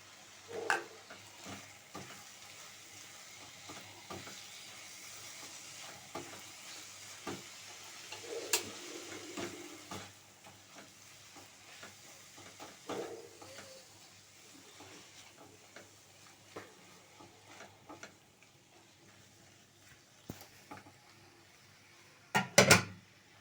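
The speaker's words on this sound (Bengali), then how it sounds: "আমলকির আচারটা হয়ে গেছে এবার মশলা দিয়ে কিছুক্ষণ নাড়িয়ে নামিয়ে নেব" Amla pickle with fried spices being stirred in a pan, a quiet bed of soft sizzling broken by scattered scrapes and clinks of the spoon against the pan, ending in a louder clatter.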